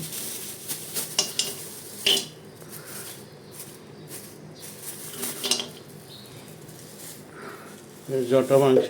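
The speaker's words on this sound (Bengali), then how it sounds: "এটাও একটু ভেজে নেব।" Ingredients for a sweet fishing bait fry in a pan with a low sizzle, broken by several sharp clinks and scrapes of a utensil stirring against the metal, with a louder clatter near the end.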